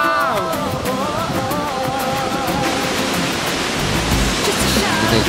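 Wachirathan Waterfall in Chiang Mai pours as a steady, loud, broadband roar of falling water that continues without a break, with faint voices blending into the rush.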